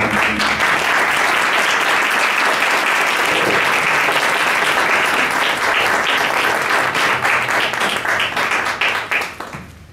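Audience at a photo exhibition event in Tehran giving a round of applause, dense and loud steady clapping from many people that holds for about nine seconds and then quickly fades out.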